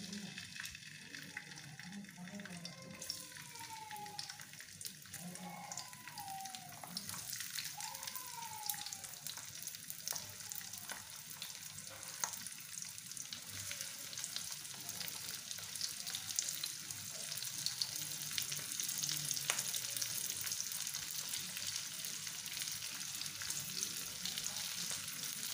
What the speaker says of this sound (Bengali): রসুন আর পেঁয়াজ গুলোকে ভালো করে ভেজে নেব।